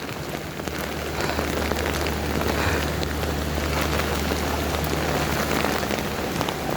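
Rain falls steadily on a waterlogged street, a loud close, even patter with a faint low hum running underneath throughout.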